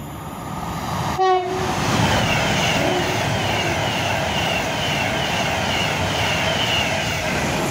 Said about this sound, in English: Now I'm just waiting for the Pendolino.